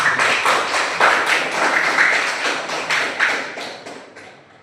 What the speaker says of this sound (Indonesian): tepuk tangan dulu untuk kawan kita